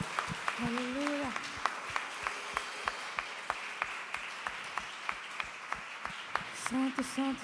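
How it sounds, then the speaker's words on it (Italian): A church congregation at an evangelical worship service in Verona claps in steady rhythmic beats, each clap sharp and evenly spaced, with a voice exclaiming at the start and near the end over the beat. "Facciamo un applauso."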